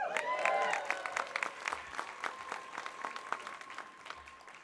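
Audience applauding at a city awards ceremony in Tacoma, a dense burst of clapping that gradually thins and fades over several seconds, with a faint tone and murmur underneath.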